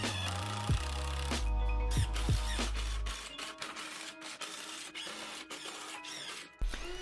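A drill drives screws into countersunk pilot holes on a wooden toddler kitchen helper, with a rising motor whine that stops abruptly, then clicks and rattles close by, and no speech.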